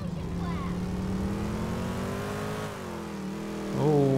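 Car engines in GTA 4 drone and rev as vehicles overtake on a two-lane road. The pitch rises and falls steadily, then jumps to a sharper revving surge near the end, with no talk over it.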